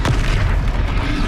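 A Confringo blasting spell goes off in Hogwarts Legacy, a loud, close booming explosion with a deep rumbling tail.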